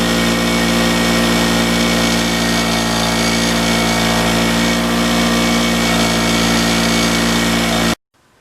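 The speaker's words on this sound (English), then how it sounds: "run this on the wire wheel over there and clean this up just a little bit" A bench wire wheel spins against a Yamaha RD 400 kickstand part, a loud dense steady whir that runs unbroken for about eight seconds before cutting off abruptly.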